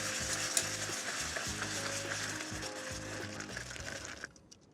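Caramel cooking in a pan after whipping cream goes in for an apple tart, a dense close bubbling sizzle with repeated stirring scrapes that stops abruptly near the end.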